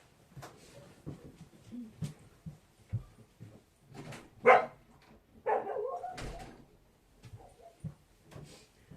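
A dog barks a few times, sharp and fairly close, with a rougher, longer bark-whine midway, amid scattered clicks, knocks and household noise.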